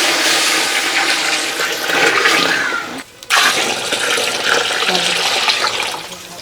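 Water pours into a cooking pot over sautéed green peanuts and vegetables outdoors, a loud continuous splashing gush that breaks off briefly near the middle and then resumes.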